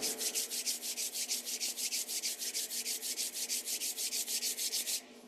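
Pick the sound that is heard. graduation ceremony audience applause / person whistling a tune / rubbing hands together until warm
rubbing hands together until warm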